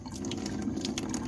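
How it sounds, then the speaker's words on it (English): Water squeezed from a sponge over a glazed plate, a brief close trickle and drip of liquid running steadily, moderately quiet with no talk. "now I'm squeezing out my sponge"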